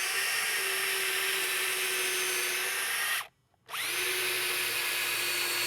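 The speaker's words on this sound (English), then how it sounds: "drill your remaining 2 holes" A power drill whines steadily as it bores holes through a fence bracket, runs continuously, cuts out briefly to silence, then spins back up and keeps drilling, loud and close with no talk.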